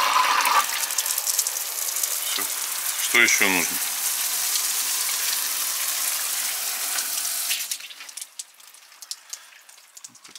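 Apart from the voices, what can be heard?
water running from outdoor summer shower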